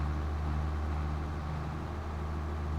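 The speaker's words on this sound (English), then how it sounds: "Definitely got that bass kind of to the diesel engine there." Diesel tractor engine in Farming Simulator 25, a steady, deep rumbling drone that holds an even level throughout with no voices over it.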